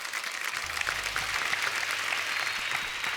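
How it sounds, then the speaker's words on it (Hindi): A studio audience at The Kapil Sharma Show gives loud, dense applause for the guest stars, a continuous roar of clapping sustained with no talk. "एक बार हमारे सब स्टार्स के लिए जोरदार तालियां हो जाए।"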